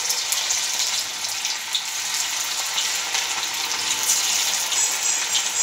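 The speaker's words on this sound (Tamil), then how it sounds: "இப்போ போட்டோன்னே சத்தம் கேட்கணும், பொரிஞ்சு வரணும்" Steady, intense sizzling and crackling of cauliflower pieces deep frying in hot oil for Gobi 65, continuous and fairly loud, with no voices.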